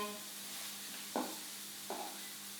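Tempeh, mushrooms and greens frying in a skillet, a steady soft sizzle broken by two brief scraping stirs as pieces are turned, quiet and close.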